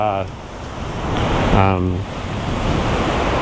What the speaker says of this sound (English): Oh, it must be windy here.